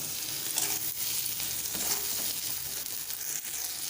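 Chapila fish curry with ground spices and salt stirred in a hot pan, a dense, steady sizzle with soft scraping strokes throughout, close and moderately loud.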